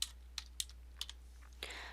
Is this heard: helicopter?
no